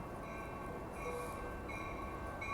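An Amtrak Capitol Corridor train bound for Sacramento arrives at a station in Oakland, a steady rumble of rolling wheels with faint high metallic squeals and tones, no one talking.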